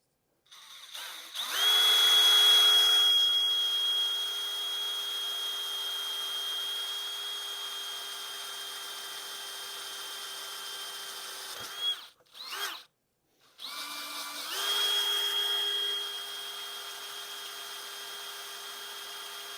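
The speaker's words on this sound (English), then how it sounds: "And now I can drill my pilot hole." A power drill drilling a pilot hole for an e-bike trailer hitch spins up and whines steadily for about ten seconds, stops, gives two short bursts, then runs again briefly.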